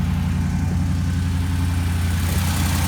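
A car engine idles steadily after an exhaust header repair, running rich, with a continuous low rumble and even pulsing throughout, close and loud with no talking.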